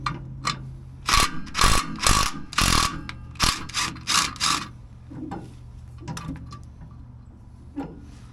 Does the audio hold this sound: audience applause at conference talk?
no